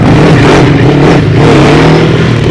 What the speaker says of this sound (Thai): เสียงท่อดีพี่